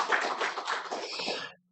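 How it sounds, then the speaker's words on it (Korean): A church congregation claps during a Sunday service, a short burst of brisk, close handclapping lasting under two seconds that cuts off sharply. "박수."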